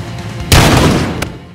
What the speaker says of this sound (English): Oh, y'all ain't tell me the shotgun was like this though.